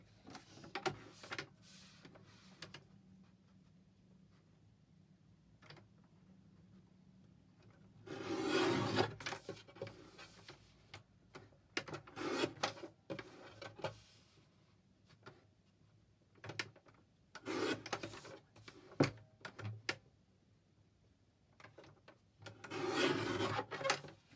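Blue paper is cut out for a tag and ephemera holder, with intermittent close bursts of crisp snipping and rasping scissors strokes separated by quiet pauses.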